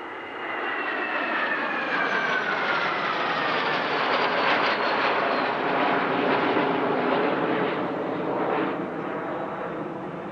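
An aircraft flying a solo airshow display roars steadily overhead, a broad sustained engine drone that swells slightly and holds loud for the whole stretch with no voices.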